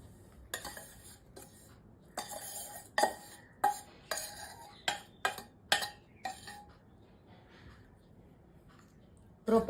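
Crushed edible gum ladoo mixture being stirred together with roasted flour and coconut in a pot, producing a series of close, irregular clinks and scrapes of a utensil against the vessel.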